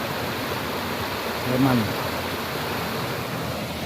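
A river flows at a fishing spot in the Balangan area of Indonesia, giving a steady broad rush of water, while someone speaks briefly over it near the middle.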